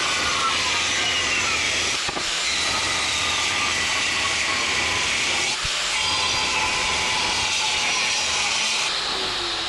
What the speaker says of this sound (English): just get the angle grinder, slot that all around, and then those plates should fit in